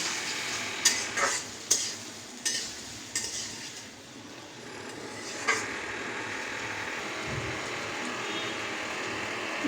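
Chopped tomatoes are stirred in a frying pan, with a series of sharp spatula scrapes and taps in the first few seconds over a soft steady sizzle that continues alone afterward.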